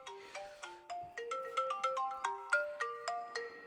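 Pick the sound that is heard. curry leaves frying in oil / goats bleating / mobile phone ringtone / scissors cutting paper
mobile phone ringtone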